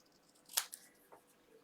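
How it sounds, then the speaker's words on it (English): A pair of scissors snips paper at an angle while a greeting card is being made, one sharp close snip followed by a smaller cut and a faint later snip, quiet and brief. "I'm going to cut on an angle here, and I'm going to cut on an angle here."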